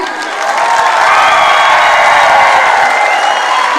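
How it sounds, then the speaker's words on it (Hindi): A large crowd at a wellness company event claps and cheers loudly for the founder, a dense roar of applause with shouts and whoops that swells and stays full. "मैं चाहूंगी कि उसके फाउंडर के लिए एक बार जोरदार तालियां हो जाए"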